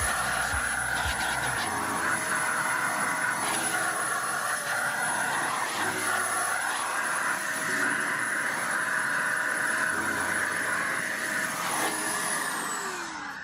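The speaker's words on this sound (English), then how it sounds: "And one last time with the duster." Compressed air duster blasting dust out of a dirty desktop computer, a steady loud hissing roar that holds for about thirteen seconds with slight fluctuations, alone with no talking.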